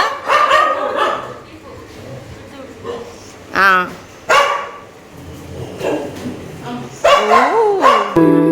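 Dogs bark and whimper in short bursts, near and fairly loud, breaking in between stretches of people talking close by.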